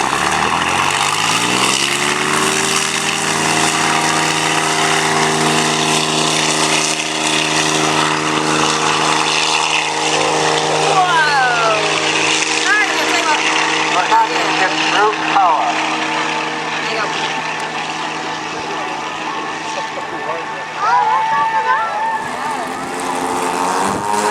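A large radio-controlled model aircraft drones steadily overhead at a model display day at Elvington, York, its engine tone shifting slightly as it passes, with people talking nearby.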